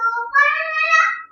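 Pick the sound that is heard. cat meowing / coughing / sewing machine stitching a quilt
cat meowing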